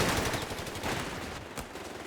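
Continuous machine gun fire in a Company of Heroes 3 battle, with dense overlapping bursts of gunfire rattling steadily for about two seconds at moderate loudness and no voices.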